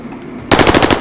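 Rapid automatic gunfire in a multiplayer first-person shooter match, a sudden loud burst of about six quick shots that cuts in after half a second of quiet background.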